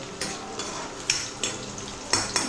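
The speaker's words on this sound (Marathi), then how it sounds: "त्याच्यात तेल टाकलं आहे कांदा आणि लसूण टाकलं आहे आणि परतवायला घेतलं आहे" Onion and garlic sauté in hot oil for mutton leg soup, a steady frying sizzle broken by several sharp spoon scrapes and clinks against the pan, close and moderately loud, with no voices.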